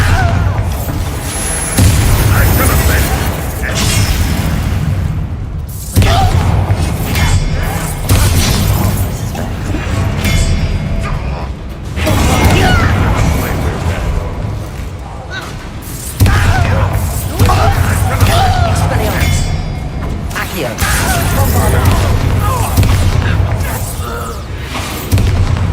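Repeated booming Bombarda blasting-spell explosions in the Hogwarts Legacy video game, loud bursts recurring every few seconds amid combat sounds, with voices shouting spells between them.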